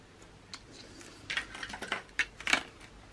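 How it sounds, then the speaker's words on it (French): Paper for a scrapbook album is cut by hand, giving a few quiet, sparse snips and crisp rustles that grow busier toward the end. "Et là, je coupe mon papier."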